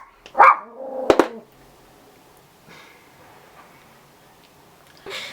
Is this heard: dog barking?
yes